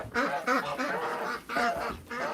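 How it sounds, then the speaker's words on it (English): Geese and ducks honk and quack in short repeated bursts as they march out together, loud and close. "It's the march of the geese and ducks."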